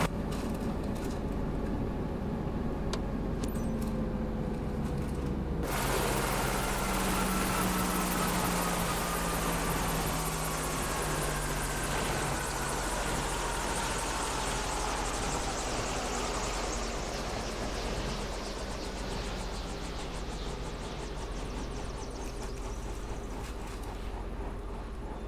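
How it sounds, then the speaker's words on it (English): A helicopter's main rotor winds down in Microsoft Flight Simulator 2024. A steady engine whine drops abruptly, then a droning hum fades gradually in pitch as the rotor slows, with no talking. "You can use the rotor brake to expedite the slowing down and stopping of the main rotor."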